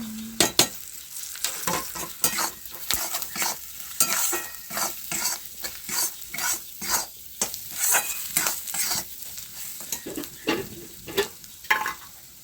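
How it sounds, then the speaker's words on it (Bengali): Grated coconut frying in a pan with chili powder for an egg chili dish, stirred with steady rhythmic scrapes and clinks over a continuous close sizzle, with no talking. "ভালো করে ভেজে নেব এক চামচ নারকেল কুড়া"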